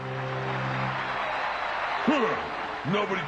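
An audience applauds in a Transformers Energon cartoon as Rodimus and Hot Shot are welcomed at a competition, a steady wash of clapping with voices rising over it.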